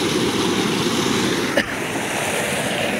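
Water gushes steadily from a farm irrigation motor pump into a field of brinjal plants, a loud, continuous rushing roar with a brief knock partway through.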